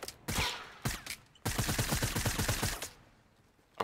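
Rapid gunfire in a Fortnite prop hunt match with a full lobby: a few sharp shots, then a dense, steady string of fast close shots for over a second, trailing off into quiet.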